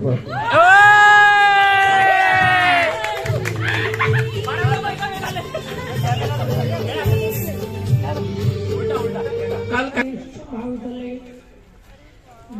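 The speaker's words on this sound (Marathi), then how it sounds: "सर्वांनी टाळ्या वाजवून त्यांचे स्वागत करावं" Audience at a B.Ed college farewell celebration in Armori, Gadchiroli, clapping and cheering to welcome guests: a loud drawn-out shout opens, then steady crowd roar with scattered clapping, fading near the end.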